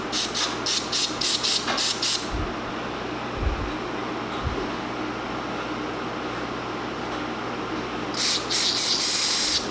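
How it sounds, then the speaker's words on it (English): Short bursts of cleaner spray hiss onto a Mazdaspeed 3 intake sensor's filaments in a quick series, a pause with faint handling bumps, then another hissing spray burst near the end. "Spray it inside there to get the two filaments in there."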